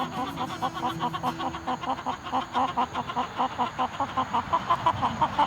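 Jersey Red or Jersey Black chickens cluck in a busy, rhythmic stream of short calls, fairly close, with several birds overlapping.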